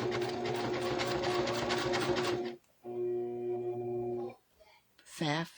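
A Pfaff Tiptronic 2010 sewing machine whirs steadily at a fast, even stitching rhythm for a couple of seconds, then runs again more smoothly before stopping, with brief voices afterward.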